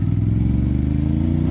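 Steady, loud Yamaha MT motorcycle engine at a rumbling idle, with even low firing pulses close to the listener and no voices.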